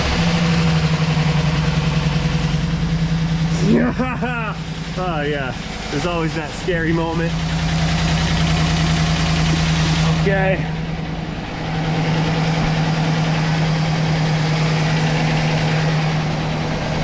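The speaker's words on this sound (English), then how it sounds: "Starting the engine." A Chevrolet Silverado 6.2 V8 turns over and settles into a steady, low idle that runs continuously, close by, while people talk briefly over it.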